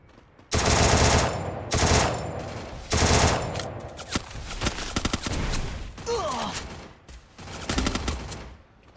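Video game gunfire: rapid automatic bursts, loud and close, in two long volleys early on, then scattered shots and shorter bursts continuing to the end.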